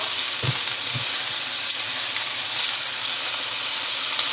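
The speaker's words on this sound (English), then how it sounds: "I'm going to add my sauce now." Sauce for Thai drunken noodles sizzling in a hot wok, a steady close frying hiss with a few faint stirring knocks near the start.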